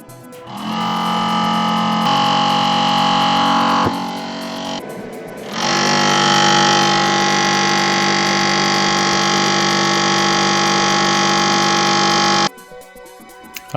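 A computer cooling fan, running without its heatsink, whines loudly at a steady high pitch in close bursts: it runs for a few seconds, dips briefly, then roars on for several more seconds before cutting off abruptly.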